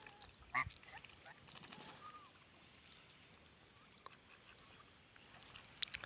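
A few faint honks from geese sound at a distance over a quiet outdoor background on a flooded garden plot, with a louder call near the start.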